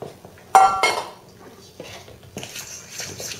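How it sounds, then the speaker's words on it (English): Gluten-free batter of eggs, Earth Balance and sugar being mixed in a bowl, starting with a sharp clatter of utensils against the dish, then scattered softer knocks and a stretch of brisk scraping and stirring. "we're going to add that to our mixture of the eggs and Earth Balance and sugar and mix that together really well"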